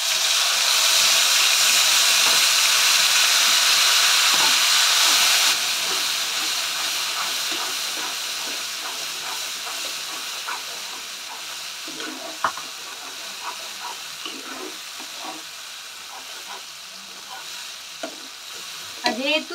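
Onion, garlic and ginger paste hitting hot oil in a pan, a loud close hissing sizzle at first that settles into a softer, crackling fry with scattered stirring taps.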